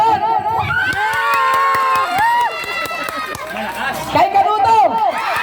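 A crowd at an anniversary gathering cheers and shouts loudly and continuously, with whistles and high children's voices rising and falling through the din.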